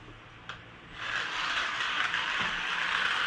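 A Carrera Go 1/43-scale NASCAR Camaro slot car on a Carrera Go Max track. After a sharp click, its motor starts a steady, fairly loud gritty buzzing whine that carries on to the end, with another small click partway through.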